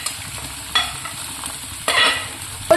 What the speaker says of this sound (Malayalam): ഈ ഇഞ്ചിയൊക്കെ നല്ലതുപോലെ ഒന്ന് ഫ്രൈ ചെയ്തെടുക്കണം കേട്ടോ.